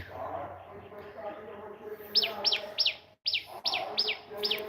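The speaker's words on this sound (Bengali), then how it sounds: "পাখির ডাক আপনারা শুনতে পাচ্ছেন এগুলি এই পাখির ডাক শুনে কিন্তু আমার সকালবেলা ঘুমটা ভাঙে" Morning birdsong from nearby birds, rapid bright chirps in a quick repeating run, joined by a faint insect-like hum and someone talking softly under them.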